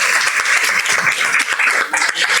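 An audience at a science talk on climate change claps, a dense, loud and lively burst of applause that continues steadily throughout.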